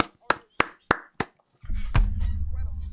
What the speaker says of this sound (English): I am applauding, and I didn't even realize I was doing it